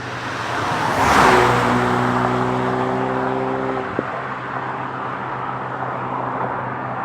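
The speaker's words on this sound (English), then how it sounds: "The little turbo engine is eager," A Ford Mustang EcoBoost's turbocharged four-cylinder engine pulls with a steady tonal drone that builds, holds for a few seconds, then cuts off, leaving a quieter road rumble.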